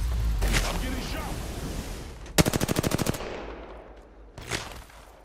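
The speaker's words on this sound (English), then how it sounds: "I'm getting shot." Burst of rapid automatic gunfire in the shooter Apex Legends, a sharp rattling string of shots lasting under a second, with a single loud crack later and some talk around it.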